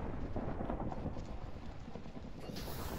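In Minecraft, lightning strikes a pig and a loud, dense thunder rumble rolls on without a break, with no talk over it.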